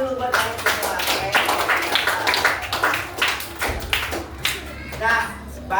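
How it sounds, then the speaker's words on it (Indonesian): Classroom of students clapping hands together for their groups, a dense burst of many hands with a teacher's voice over it. "Oke, tepuk tangan dulu buat kalian semua."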